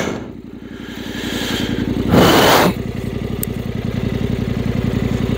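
A 2023 Yamaha Ténéré World Raid motorcycle idles close by with an even, rapid thumping beat, broken by one short louder rush of noise partway through. No one speaks.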